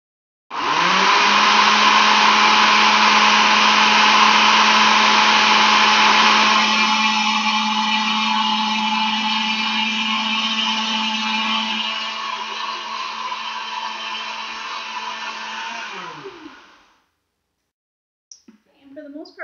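Blender pureeing chickpeas for hummus, a loud, steady motor whine that runs continuously for about sixteen seconds, its pitch shifting slightly as the mixture smooths, then cutting off abruptly.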